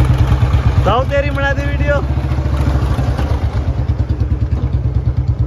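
A Royal Enfield Bullet motorcycle, just started after sitting unused for many days, idles up close with a steady, loud single-cylinder thump, while someone talks over it throughout.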